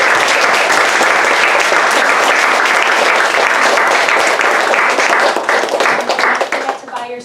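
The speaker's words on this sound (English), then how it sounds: "One more round of applause." An audience at a book talk gives a sustained, dense round of applause that stays full and even before tapering off at the end.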